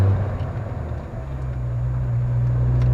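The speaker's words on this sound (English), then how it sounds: "the grinding or raking into each gear" A 1996 Kia Sportage's manual gearbox running with a steady low drone, a faint grinding texture under it as the gears engage, close and continuous with no talk.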